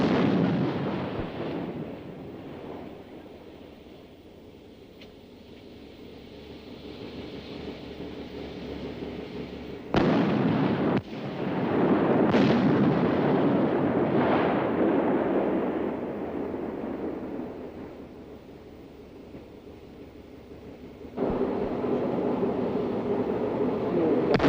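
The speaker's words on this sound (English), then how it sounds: "the tanks fire in turn from stationary positions" Main battle tanks fire their guns in turn from stationary positions during a firing exercise, each shot a heavy distant boom followed by long rolling echoes across open ground.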